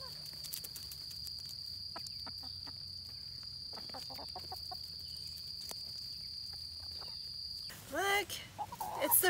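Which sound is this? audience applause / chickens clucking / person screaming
chickens clucking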